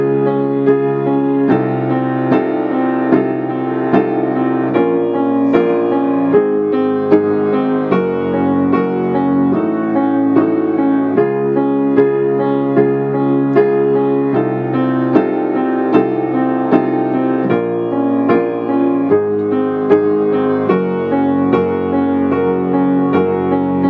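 Piano chords of a chord progression, with sustained full chords changing every couple of seconds in a steady cycle, played loud and continuously with no talking.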